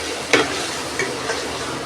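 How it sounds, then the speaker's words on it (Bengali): Ground spices (turmeric, chili, coriander and cumin powder) are stir-fried in a pan for a chicken and potato curry. A steady, close sizzle is broken by a few short scraping clicks of a spatula, with no voices. "তো কষি নেবো মশলাটাকে ভালো করে"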